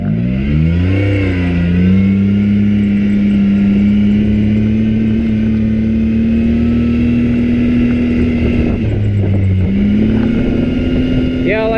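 A turbocharged UTV engine drones steadily at speed, loud and close, with the pitch dipping and climbing again as it shifts near the end.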